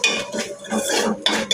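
A spoon stirring rasam powder, salt and turmeric in a metal pan, giving close, quick scraping and clinking strokes over a brief moment.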